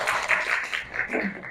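Children clap in a classroom, a short burst of scattered hand claps filling the space, close and moderately loud, fading out after about a second.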